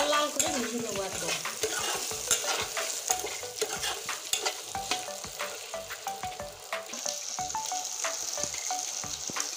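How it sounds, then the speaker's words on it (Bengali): Potato pieces frying in hot oil, a steady loud sizzle with repeated scraping stirs and light clinks of a utensil against the pan throughout. "এবার আমি আলুটা তেলের উপরে ছেড়ে দিচ্ছি। আলু আমি লাল লাল করে ভেজে দেবো একদম।"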